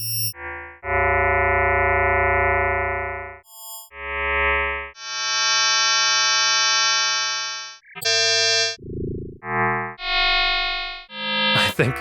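Generative Krell-style synth patch built in Symbolic Sound Kyma, sounding a series of separate buzzy, harmonic-rich electronic tones at random pitches, each swelling and fading, some long and some short, loud and alone.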